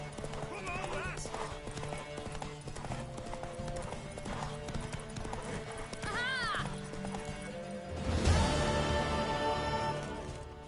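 A horse gallops in The Witcher 3: Wild Hunt on PS5, rhythmic hoof clip-clops running throughout with a whinny, under game music and character dialogue.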